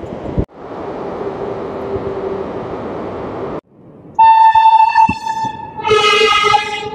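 Black Diamond Express passenger train 22387 in India, its loud wheel and carriage rumble rolling steadily, then a break before a loud horn blast sounds and a second, higher horn follows, both close and clear.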